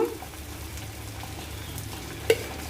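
Ghee going into a hot pan for chakra pongali, a sweet rice dish, sizzling softly in a low, steady hiss with light stirring and one brief clink near the end, close by and quiet.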